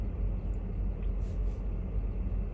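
Steady low road-and-engine rumble from inside a car driving through busy mid-morning traffic, a constant broadband drone without distinct gear changes.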